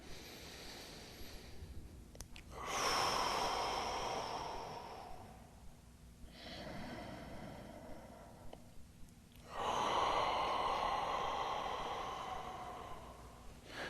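Slow, deep breaths taken while holding a yoga pose, two long breathy swells with quiet pauses between them, close and soft, with no talking.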